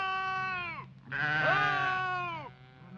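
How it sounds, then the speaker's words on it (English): A sheep gives two long, wavering bleats in quick succession. The strained cries sound eerily like a voice, close and clear against a quiet background. "Thing that sometimes a sheep seems to call with the voice of a man."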